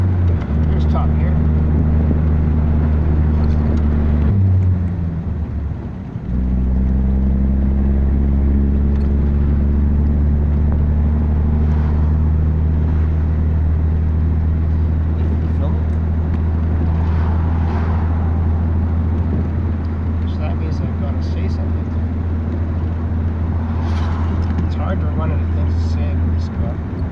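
A 1949 Daimler DB18 drop head coupé with a 2.5-litre engine cruises in top gear, a deep, steady engine drone broken by a brief dip near five seconds as the gear changes, heard continuously from the cabin.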